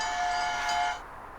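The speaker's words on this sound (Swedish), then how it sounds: "Train whistle." A single steady train-whistle toot sounds in a game show studio for about a second, a bright, held tone that then cuts off into quiet.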